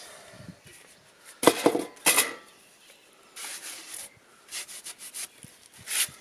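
A hand saw cuts through the glued middle of a wooden glulam header during timber framing. Close, scratchy bursts come as a few strong strokes, then a pause, then a run of shorter, lighter strokes.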